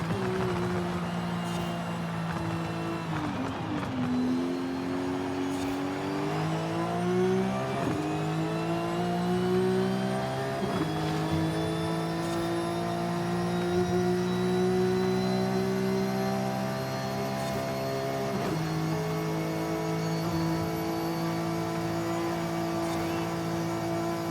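Turbocharged race car engine in Forza Horizon 5: a steady, loud whine that climbs through the gears, with several sharp shifts where the pitch drops and then rises again.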